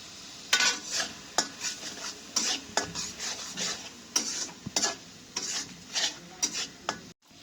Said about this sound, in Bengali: নুডলস গুলা নাড়াচাড়া দিয়ে আলগা করে দিই, পরে দলা দলা হয়ে থাকবে